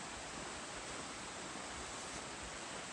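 A small, foamy river flows steadily along a Pacific Crest Trail crossing, giving a soft, continuous rushing hiss with no voices over it.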